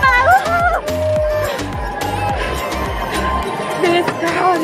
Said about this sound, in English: This crowd is so crazy.